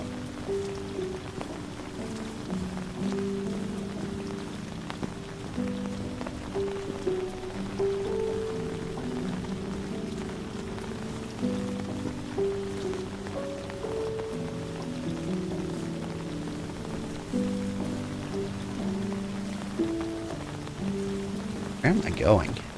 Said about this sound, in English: the tiny little umbrella rain noises